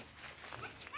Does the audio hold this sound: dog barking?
yes